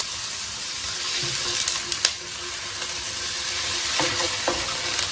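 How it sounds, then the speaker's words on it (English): Chicken slices sizzle while frying in a pan, a continuous bright crackle with a few sharper spits and scrapes of stirring, close and steady with no talk. "You can hear that Thrive sizzle."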